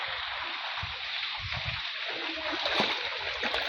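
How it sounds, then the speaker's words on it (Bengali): Floodwater in a flooded home courtyard, sloshing and splashing close by in irregular bursts over a steady watery hiss, with a brief louder splash near the end. "এই যে আমার উঠোনে এই পানি।"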